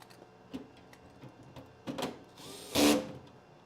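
A power drill drives and tightens a bolt on a Merlin FEG scanning electron microscope frame, with a couple of short whirring bursts building to a louder, sustained spin near the end, among light clicks and handling noise.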